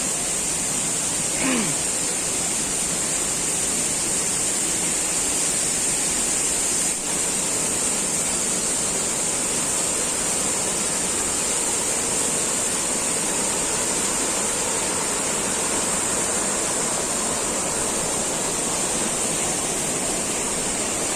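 Water rushing down a waterfall at Keralamkund in Kerala gives a steady, loud, broadband roar that holds unbroken throughout, with no voices over it.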